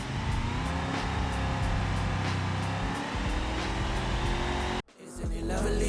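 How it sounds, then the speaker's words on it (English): Tires spinning in a burnout in BeamNG, a continuous loud engine roar with tire squeal that holds steady, then cuts out briefly near the end before resuming. "Can't leave without doing a burnout. Go ahead and finish these tires off."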